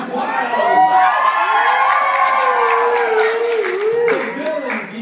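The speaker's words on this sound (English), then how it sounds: "The crowd goes wild." A youth group talent show audience cheers and shouts wildly, with children's excited yells and some clapping, loud and sustained for several seconds.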